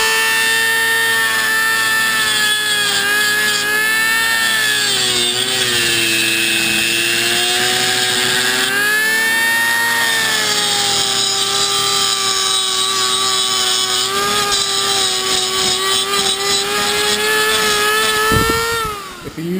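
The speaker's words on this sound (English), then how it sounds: "we're gonna cut it now with a Dremel." A Dremel rotary tool cuts through a metal engine bracket with a continuous high-pitched whine that dips and recovers as pressure changes, running close and loud for nearly twenty seconds before winding down abruptly at the end.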